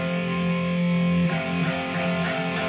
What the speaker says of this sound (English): the power chord sounds like this